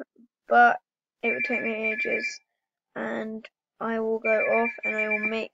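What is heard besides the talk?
telephone ringing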